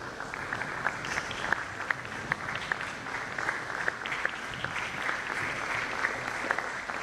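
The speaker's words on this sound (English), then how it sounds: "Please, can we give a standing ovation and a clap of it as we welcome the Vice Chancellor for his address" An audience at an international environmental sciences conference applauds steadily to welcome the Vice Chancellor, a dense patter of many hands clapping at moderate distance, without a break, for the whole stretch.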